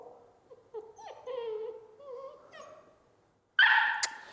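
A puppy gives several faint, high whimpers and whines nearby, followed at the end by a sudden louder burst of sound.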